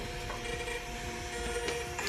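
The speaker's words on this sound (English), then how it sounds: "You send it to your printer or your label." A label printer running a batch of shipping labels for an online clothing shop, giving a steady close mechanical whir with faint ratcheting clicks throughout.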